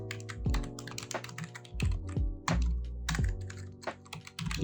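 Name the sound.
typing code on a computer keyboard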